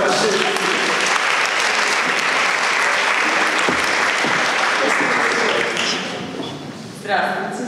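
A conference audience breaks into loud, sustained applause and an ovation for a speaker being introduced, a dense roar of clapping that fades near the end as a voice begins.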